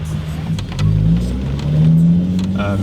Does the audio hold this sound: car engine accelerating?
yes